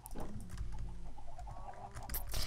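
Chickens clucking in the video game Minecraft, a few short game-sound clucks and chirps in a busy farm scene, fairly loud and steady over a background hum, with no talk.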